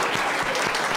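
A Senate committee audience gives a standing ovation to a speaker, with dense, steady applause from many hands filling the room.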